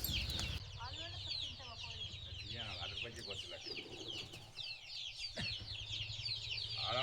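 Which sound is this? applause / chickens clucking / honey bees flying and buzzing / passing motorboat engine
chickens clucking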